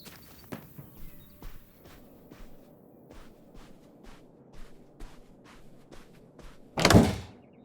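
Rhythmic metallic clicks and scrapes repeat about every half second as a screwdriver works at a door in the video game Open Roads, ending in a louder burst as it gives way, with no talking.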